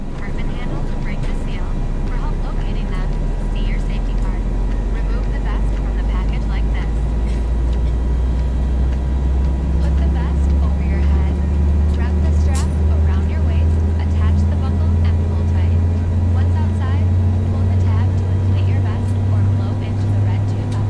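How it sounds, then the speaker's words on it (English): Aircraft engines spool up in the X-Plane 11 flight simulator, a steady loud low drone whose pitch climbs gradually across the whole stretch, with no other sounds breaking through. "I'll let you guys listen to the engine sounds."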